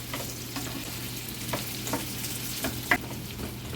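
Potatoes frying in oil in a pan, a soft, steady sizzle with occasional light scrapes and clicks as they are stirred to coat them, close by.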